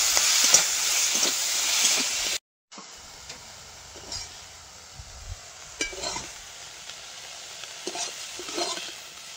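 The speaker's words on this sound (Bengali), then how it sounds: "এবার চিংড়িগুলো ভেজে নেবো।" Prawns fry in hot oil in a pan, a crackling sizzle with scraping stirs and bursts of spitting, briefly cut off by a short silence before resuming at a lower level.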